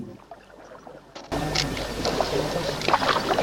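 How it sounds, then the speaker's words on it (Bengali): A boat moves steadily across a river in Chitwan, Nepal, with a constant engine-like rumble and water wash that starts abruptly and continues, nearby and fairly loud. "নৌকায় করে যাচ্ছি নদী পার হয়ে"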